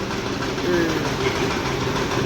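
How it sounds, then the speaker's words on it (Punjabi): A tractor engine runs close by with a steady, rumbling drone, while someone talks over it. "ਇਹਦਾ ਖੜਕਾ ਬਾਲਾ ਹੁੰਦਾ ਇੰਜਣ ਦਾ ਇਹਦੇ ਕਰਕੇ ਬਾਜ ਘੱਟ ਆਉਂਦੀ ਆ"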